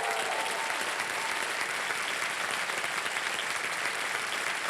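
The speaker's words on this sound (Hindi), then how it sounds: "ताली बजती रहे इन लोगों के लिए।" Sustained applause from a studio audience on the KBC television quiz show, dense and steady, clapping for prize winners throughout with no break.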